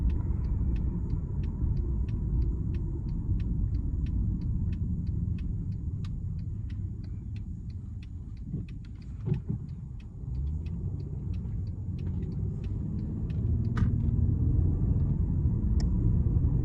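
Steady low road rumble from inside a car with a 3.5 liter V6 and smooth 7-speed transmission cruising at night, a continuous engine and tire drone with faint ticking, no talk.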